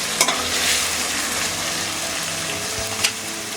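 Onions and tomatoes frying in a pan for an aloo hara chana sabji, with a steady sizzle under a spoon stirring and scraping, plus a couple of sharp clinks of the utensil against the pan.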